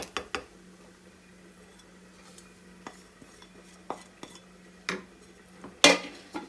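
Masalas being tossed in a hot iron skillet, scattered sharp metallic clinks and taps of a utensil against the pan at irregular intervals, with a faint low hum underneath and one louder clatter near the end.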